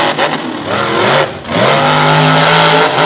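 Race cars launch off the line together at the start of a drag race in Susquehanna, PA, engines roaring loudly and rising in pitch through the gears, close and dominant with no talk.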